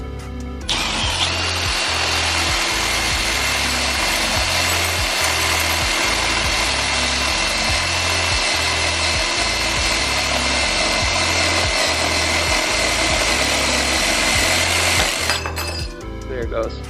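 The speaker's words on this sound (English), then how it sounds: "The only way you could get it off is by using this thing and just drilling into it" A power drill bores into a stuck fastener on a Mercedes-Benz C300 W204, a continuous grinding whine for about fourteen seconds over a rhythmic low thumping, close and loud.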